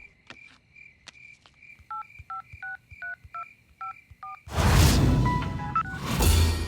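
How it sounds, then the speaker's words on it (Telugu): Touch-tone keypad beeps on a telephone as a call is placed, about a dozen short evenly spaced tones, followed by a loud rushing burst of noise. "కాల్ చేద్దాం, ఆగు."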